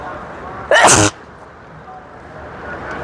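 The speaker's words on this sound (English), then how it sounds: "And I need to sneeze." One sharp, loud sneeze bursts out close by, followed by quiet room tone.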